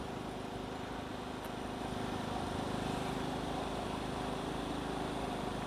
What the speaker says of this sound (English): if you're looking for a quiet generator, that has to be the quietest I've tested